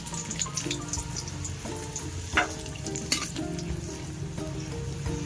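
Bay leaf, whole garam masala, dry red chilli and cumin sizzle in hot oil, a steady close crackling fry with a few sharp pops and stirring scrapes, no voices.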